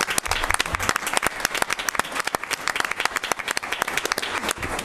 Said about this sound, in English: Bowling a very big hand of applause.